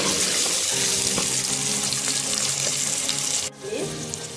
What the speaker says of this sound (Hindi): उसके बाद हम इसमें डाल देंगे जल्दी प्याज और इसको हम जरा गोल्डन ब्राउन